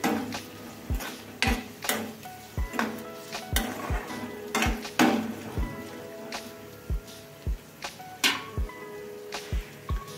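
Ginger and green chili cooking in hot oil in a pan while making garlic pickle, a soft steady sizzle under regular, close clinks of a spoon tapping and stirring against the metal pan.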